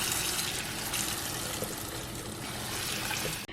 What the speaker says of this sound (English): now we're going to finish covering this with water